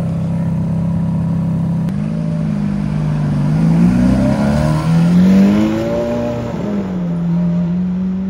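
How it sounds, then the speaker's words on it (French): A Ferrari F430's naturally aspirated V8 rumbles steadily, then revs up and down in smooth rising and falling sweeps, loud and close, in a parking garage, with no talking. "Ferrari F430. Magnifique V8. Atmosphérique."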